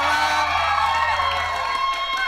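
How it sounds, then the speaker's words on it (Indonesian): A studio audience at a TV show cheers and whoops with scattered shouting, a loud continuous crowd roar that swells and stays high throughout. "Oke, tepuk tangannya dong."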